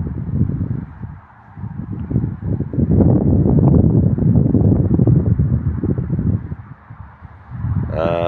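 Wind gusts across an open outdoor spot, a steady rough rush that swells and eases with a rustling edge, loud and close on the microphone.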